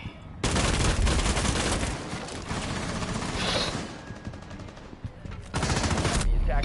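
Rapid automatic gunfire from a Rainbow Six Siege esports match, dense loud bursts filling most of the moment with a brief lull before firing resumes.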